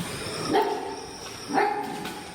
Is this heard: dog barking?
yes